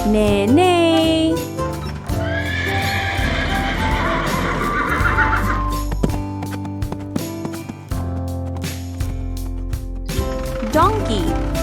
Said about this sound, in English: Horse, neigh neigh.